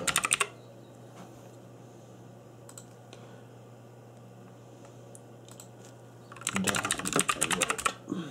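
Fingers clatter on a cheap mechanical keyboard in a brief burst at the start, then a quiet stretch with a low hum, then a denser, louder run of keystrokes near the end.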